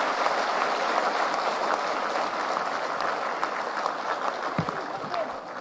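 Crowd applause at a TMC party workers meeting in Meghalaya, a sustained broad roar of many hands clapping, steady and full for several seconds with a few louder pops near the end.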